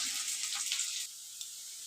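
Potatoes frying in a pan for a bitter gourd and potato dish, a steady bright sizzle that is louder in the first half and then settles quieter, with one small clink partway through.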